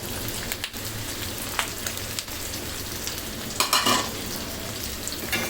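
Beef and onions sizzle loudly in a pan, broken by a few scraping stirs and clatters of a utensil against the metal.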